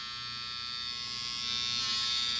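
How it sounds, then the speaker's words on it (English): A CHJ PRO cordless hair clipper fitted with a Wahl T-Wide blade running at high power, a close, steady electric buzz with a bright whine that grows slightly louder toward the end. "This is a powerful clipper"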